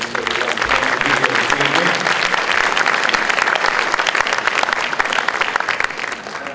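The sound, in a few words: graduation audience applause for parents and guardians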